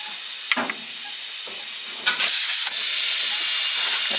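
Air compressor on a farm during post-harvest cleanup with John Deere equipment, letting out a loud, steady burst of hissing air for about half a second amid quieter background noise and a few knocks.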